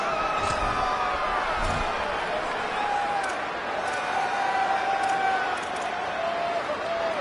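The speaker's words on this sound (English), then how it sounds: "Crowd getting this defense whipped up on 3rd down." Football stadium crowd roaring to pump up the defense on third down, a broad steady wash of cheering and noise from the stands with talk running over it.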